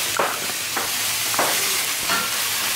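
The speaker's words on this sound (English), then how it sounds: "I cook this very high because it needs to be dry. It needs to be like a stir fry" Food stir-fried in a pan over very high heat gives a continuous close sizzle, with a stirring scrape roughly every half second and no voices.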